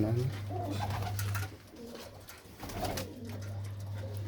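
Pigeons cooing on a rooftop coop, soft low repeated coos close by with a steady hum underneath, while people talk quietly in between.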